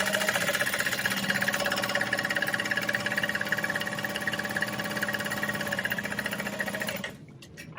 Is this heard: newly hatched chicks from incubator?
no